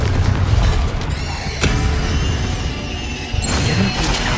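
Confringo blasting spell exploding in Hogwarts Legacy during a fight, a heavy boom with a sharp crack partway through, over steady rumbling game noise and ringing magical tones.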